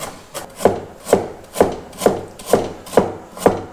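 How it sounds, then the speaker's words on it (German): A knife scrapes the skin off fresh ginger in seven evenly spaced strokes, each a close, crisp rasping swipe, steady and rhythmic with no talking. "so ganz genau bin ich beim Schälen des Ingwers nicht"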